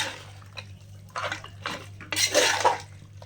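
Metal spoon scraping and clanking against a cooking pot in a few irregular bursts as boneless mutton is stirred in ginger-garlic paste, close and fairly quiet, with a low steady hum beneath.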